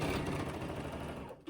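Sewing machine running a short, fast burst of stitching along a quilt seam, a quick even mechanical chatter close by that cuts off near the end, with no talking.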